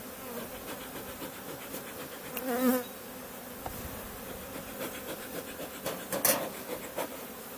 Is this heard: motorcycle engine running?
no